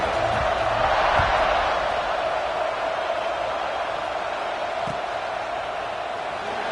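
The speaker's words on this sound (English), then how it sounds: "this crowd now ready to get behind them" A stadium crowd roars in a college football video game, SMU against South Carolina, before a kickoff: a dense, steady wash of cheering that stays loud and fades slightly, with a few thumps.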